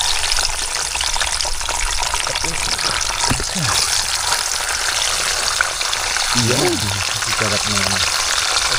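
Loud, continuous crackling sizzle of food frying in hot oil, with a person speaking briefly over it.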